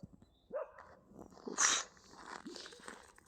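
A dog barks a few times at a distance, sharp yelps scattered over a couple of seconds, with faint footsteps and outdoor rustle around them.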